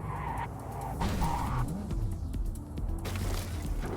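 A car in Cyberpunk 2077 handbrake-skidding: engine hum with squealing tire bursts that rise and fall over a few seconds, fairly loud, no talk over it.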